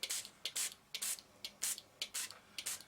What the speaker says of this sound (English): I'm going to take some of the pink mixed media spray